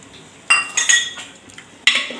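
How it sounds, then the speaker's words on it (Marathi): A spoon stirs grated carrot cooking in milk inside a pot for carrot halwa over low heat, giving a few close, sharp metallic clinks and scrapes against the pot with quieter stirring between. "इथं आपल्याला आता कमी आचेवरच हे आपण जे गाजर घालून दूध घेतलेलं आहे ते आता असंच हलवून घ्यायचं आहे"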